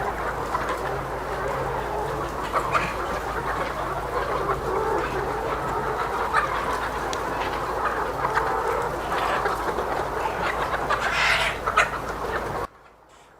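Poultry at a farm, a dense continuous chorus of birds calling and clucking close by, steady and moderately loud for most of the stretch before cutting off abruptly near the end.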